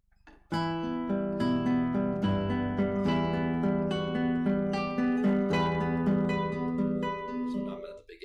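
Classical guitar played alone, Romance de Amor, steady picked notes and chords ringing out clearly for several seconds after a brief silence, ending with a fade.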